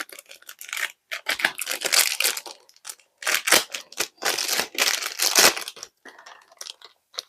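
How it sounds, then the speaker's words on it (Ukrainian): A small plastic packet from a Na Na Na Surprise doll set is torn open and handled close up, giving bursts of sharp crinkling and crackling separated by brief pauses. "Ще один ось такий пакетик відкриваємо."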